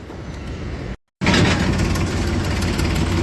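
An old-model Mahindra 1035 DI tractor idles nearby, its diesel engine chugging steadily with a brief silent break, then resuming louder and continuing without interruption.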